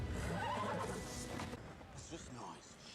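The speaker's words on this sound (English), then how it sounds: "The horse has shell shock also." A horse whinnies loudly in a period TV drama scene, a strong neigh in the first second and a half fading into quieter hoof clatter and murmured talk.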